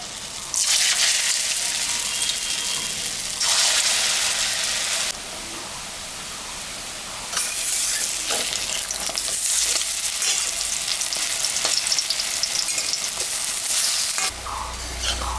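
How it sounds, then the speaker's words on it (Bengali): Raw banana kofta fry in hot mustard oil in a kadai, a loud, steady sizzle and crackle that fills the whole stretch with no speech, swelling in waves as pieces go in and get turned. "তেলটা গরম হয়ে গেছে আমি এখন কোপ্তাটা ভাজে নেব"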